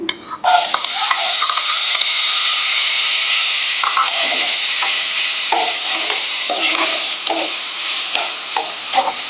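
Chopped potatoes and green chili hit hot oil with asafoetida for sabudana khichdi, giving a loud, steady sizzle and hiss throughout, broken by soft scrapes and knocks of a spoon stirring in the pan.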